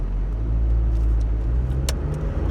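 A 1998 Vauxhall Frontera driven on a road, heard from inside as a loud steady low engine and road rumble with a faint rattle, continuous throughout.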